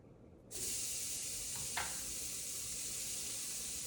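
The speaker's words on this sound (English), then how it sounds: "We're gonna throw it on right in the middle of this hot pan" A burger patty hits the middle of a hot pan and bursts into a loud, close, continuous sizzle that holds steady after a quiet start.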